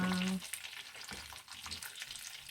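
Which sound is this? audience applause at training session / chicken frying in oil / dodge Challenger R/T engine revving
chicken frying in oil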